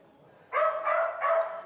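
At a two-story dog hotel, a dog gives three quick, close barks in a short burst, clear against a quiet background.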